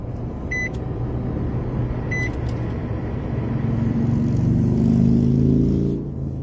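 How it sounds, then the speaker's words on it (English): A car engine idling and running steadily, a low continuous rumble that swells slightly in the last seconds before easing off, with a couple of faint electronic chimes early on. "I have to turn on the car."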